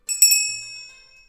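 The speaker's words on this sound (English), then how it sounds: "and we have our little unicorn bell" A small unicorn-shaped bell rings with a bright, clear ding and a quick double strike, its high metallic tone ringing out and slowly fading over about a second, close and alone.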